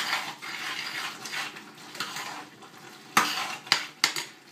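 Pisto vegetables being stirred in a frying pan, a soft continuous scraping and faint sizzle, then several sharper utensil knocks against the pan near the end.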